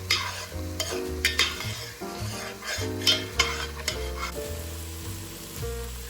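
Chicken and sausage with Cajun seasoning sizzle in a pan for jambalaya while a utensil stirs them, bringing bright scraping bursts over a steady frying hiss, close and loud, with nobody talking.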